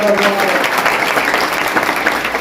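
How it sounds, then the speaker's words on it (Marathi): A crowd at a spiritual discourse program bursts into loud, sustained clapping that fills the whole stretch evenly without pause. "जोरदार टाळ्या तुमच्याकडे"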